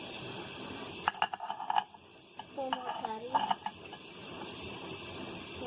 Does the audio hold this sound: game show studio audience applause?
no